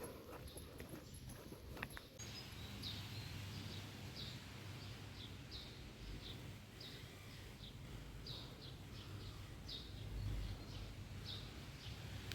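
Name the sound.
birds singing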